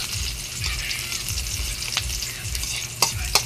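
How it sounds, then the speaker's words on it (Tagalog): Sliced onions sautéing in a pan, a soft continuous sizzle with scraping stirs of a spatula and a couple of sharp clinks near the end, close and moderately loud, no talking. "Halo-halo natin yung sibuyas"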